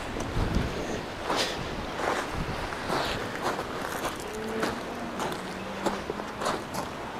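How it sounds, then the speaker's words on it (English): Strong wind batters the microphone on a scenic coast at South Bay, Taiwan, a continuous rough roar with gusty swells and rustling, and no voices. "Hopefully the wind sound does not put you off on this beautiful view."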